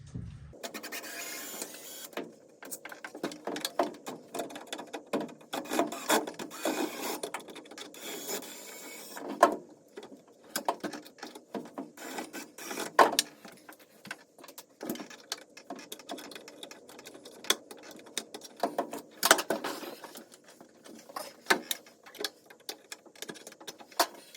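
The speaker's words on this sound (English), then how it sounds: "there are 2 screws on either side of the lid that you have to back out." Screws are backed out of the lid of a Whirlpool Cabrio washing machine, model WTW8500DC0, with a close, busy stream of rapid mechanical whirring, clicking and scraping bursts that run unevenly throughout.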